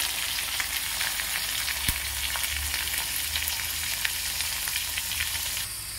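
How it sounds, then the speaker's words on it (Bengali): Large potato pieces sizzle steadily in hot oil in a pan as they fry for a paneer ghugni, a dense, continuous crackle with small pops and no voices. "এরপরে বাকি আলুগুলো ছেড়ে দেবো"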